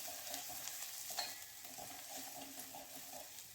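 Garlic, coconut and coriander paste roasting in a pan, a faint continuous sizzle with light scattered scrapes and ticks, quiet and without voices.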